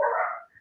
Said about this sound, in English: that's my dog's barking at the Amazon delivery driver